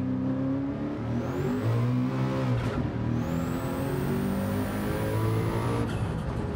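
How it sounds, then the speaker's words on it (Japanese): Group C race car in Gran Turismo 7 with a dog-box gearbox: a loud, sustained engine drone with a high gear whine that climbs steadily and resets at each shift, heard alone. "このなんかドグミッションのこの音がいいね"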